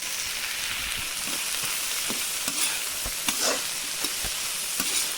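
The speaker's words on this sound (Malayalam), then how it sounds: "ഉള്ളി ഒന്ന് അത്യാവശ്യം നല്ല രീതിയിൽ ഒന്ന് വാടട്ടെ" Small onions frying in a pan with turmeric and salt give off a steady, close sizzle, with occasional light clicks and stirring scrapes cutting through the continuous hiss.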